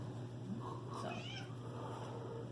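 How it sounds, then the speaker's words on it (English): A pet cat gives a couple of short, close meows over a steady low hum, with no one talking. "this is our cat"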